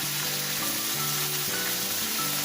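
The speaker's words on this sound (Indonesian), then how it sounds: "kita pergunakan untuk memanggang sate" Chicken satay grilling on an old, worn Teflon pan, a continuous close sizzle under steady background music.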